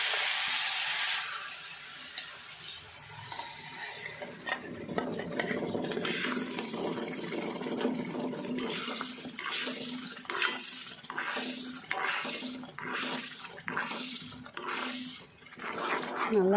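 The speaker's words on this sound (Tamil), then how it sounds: "நல்லா கைவிடாமல் கிளறிக்கலாம்." Jackfruit paste stirred in ghee in a pan, a steady scraping and squelching that turns into a regular rhythm of spoon strokes against the pan, close and continuous.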